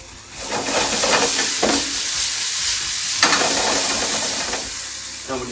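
Sea bass fillets sizzle in a non-stick frying pan with a steady, loud hiss, broken by a few scraping stirs or shakes of the pan.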